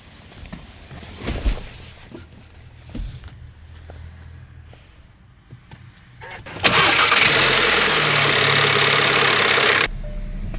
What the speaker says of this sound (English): and then go ahead and start the car.